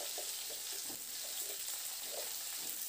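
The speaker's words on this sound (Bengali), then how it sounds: "এবার হাই টু মিডিয়াম ফ্লেমে নাড়াচাড়া করে সবজিগুলোকে একটু ভেজে নেব" Vegetables frying in hot oil on a high-to-medium flame, a continuous dense hiss of sizzling with soft stirring movements mixed in, steady and uninterrupted.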